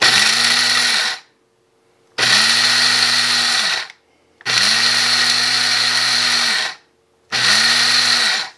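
A loud blender whirs in four bursts of a couple seconds each, separated by short silences, its high grinding whine steady and close.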